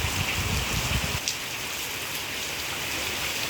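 Rain falls steadily during a flood, a dense, even hiss of drops on water and surfaces heard close by, with a slightly heavier patter in the first second.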